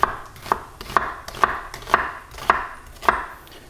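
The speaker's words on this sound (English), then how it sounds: "And then you cut this way, and that's well-diced onion right there, or half of one." A knife dices an onion on a cutting board for Indian red lentil dal, striking in an even rhythm of about eight crisp, close chops with no voices.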